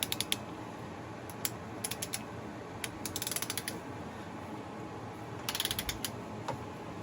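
A torque wrench tightens a bolt on the front knuckle of a Jaguar F-PACE SVR, giving quiet bursts of rapid ratcheting clicks in several short runs over a faint background hum.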